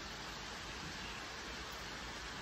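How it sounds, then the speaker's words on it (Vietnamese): Rain driven by wind hisses in a dense, unbroken wash of noise, even and moderately quiet from start to finish, with no voices over it. "Mưa gió quá thế này."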